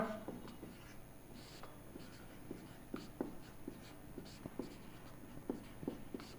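Chalk or marker writing on a board during a physics lesson: faint, irregular short scratches and taps at a moderate distance, spread across a quiet room hum.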